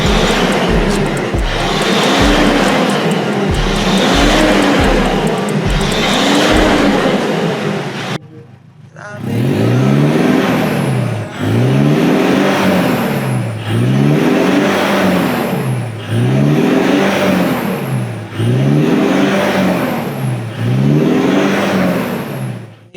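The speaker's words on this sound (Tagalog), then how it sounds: "ngayon nakapalitan na ng full exhaust using Borla XS Pro muffler. Tapos itong Borla tip. Ito po yung sound check." A Mitsubishi Montero Gen 2 with a full exhaust and Borla XS Pro muffler revs repeatedly, loud and close. The engine rises and falls in steady rhythmic surges, and background music plays underneath.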